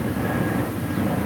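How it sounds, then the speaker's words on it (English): A steady broadband roar of a jet aircraft passing overhead, loud and continuous with no voices. "I apologize for the jet noise here"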